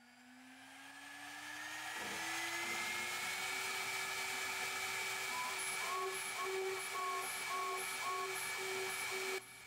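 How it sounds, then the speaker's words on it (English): A Shariff DMC CNC mill cuts a round part on its 4th axis, giving a steady high-pitched machining whine with a rising tone and faint chattering pulses near the end, continuous and close. "So you can hear a little bit of chatter in this cut"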